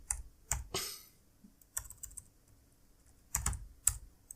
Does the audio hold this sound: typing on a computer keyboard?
yes